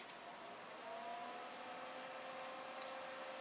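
An old 80mm Vantex Stealth quiet computer fan spins at about 2,000 RPM, giving a steady, faint whir with a thin tonal whine running under broadband air hiss throughout.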